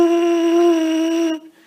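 A single sustained high brass lip buzz, a steady pitched tone with strong harmonics, held loud and close for over a second before cutting off abruptly.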